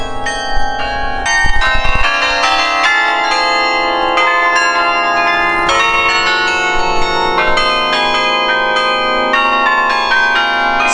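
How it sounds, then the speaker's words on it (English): Bells at Saint Joseph's Oratory in Montreal play a tune, a dense wash of loud overlapping metallic strikes and ringing tones that rises and falls steadily without any voices. "The church bells are ringing and it plays a song or some tune"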